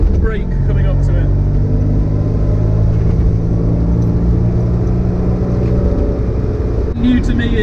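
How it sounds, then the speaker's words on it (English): A classic 1960s Fiat 500 two-cylinder engine drones with a low, steady rumble while driving, loud and close throughout. "New to me is this two-cylinder engine. The soundtrack is quite iconic and unique."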